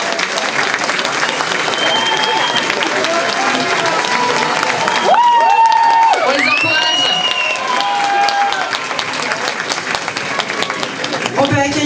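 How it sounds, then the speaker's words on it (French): Loud applause and cheering for pageant candidates at the Miss Yonne 2024 contest, with dense clapping, whoops and voices from the crowd, and a brief swell of shouts in the middle. "on les applaudit bien fort"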